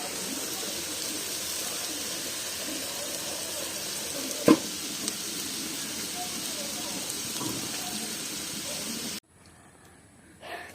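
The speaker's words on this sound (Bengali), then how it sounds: "আজকে লাউয়ের খোসা ভাজি আর লাউ রান্নাই করছি" Bottle gourd peel fries in a pan with a steady, close sizzling hiss and a light crackle throughout, broken by a single sharp tap midway, before the sound cuts off abruptly near the end.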